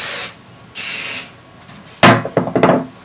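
Hairspray hisses from an aerosol can onto teased hair for a high ponytail in two short, close bursts, followed by a few clattering knocks as the can is handled and set down.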